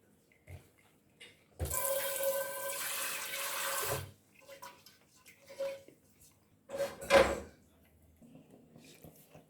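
Water from cooked spaghetti is poured out of a pot to drain, a loud gushing splash of about two seconds, followed by a few clinks of the pot and a second short splash.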